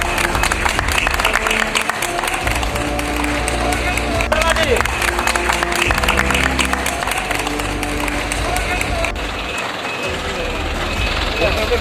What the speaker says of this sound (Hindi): सभी अस्पताल स्टाफ ने ताली बजाकर एक दूसरे को उठाकर इस टैंकर का स्वागत किया